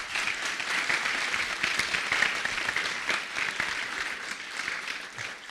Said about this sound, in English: Maybe a little applause for that.